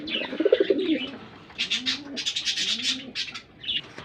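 Pigeons at a breeder's loft coo close by in repeated throaty, rolling calls. Brighter chirps and rustles mix in, with short pauses between the calls.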